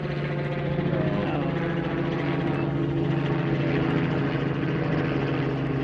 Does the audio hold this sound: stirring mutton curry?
no